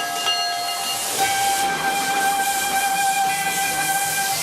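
A Maria Fumaça steam locomotive on a Brazilian railway lets out a loud, sustained whistle with several steady tones, while a constant broad hiss of escaping steam runs underneath throughout.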